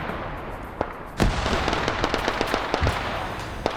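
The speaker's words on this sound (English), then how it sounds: "More tin can grenades." Tin can grenades burst in a WW2 video game firefight: one sharp pop, then a loud blast, then a rapid crackling run of smaller pops and bangs, all close and with no talk.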